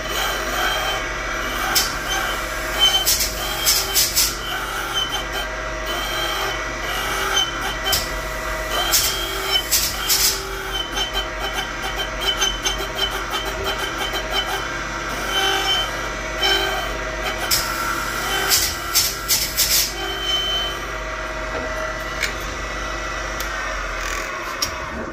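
A Triumph connecting rod being honed with a stone on a machine whose indexing wheel raises and lowers the stone, giving a steady close mechanical whir with repeated scraping bursts and no talk.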